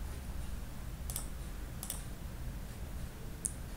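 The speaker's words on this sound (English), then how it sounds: "After clicking the create button, the project gets created." A computer mouse clicking a create button in a Google Cloud console: three sharp, faint, close clicks spaced irregularly over a quiet background, with no talking.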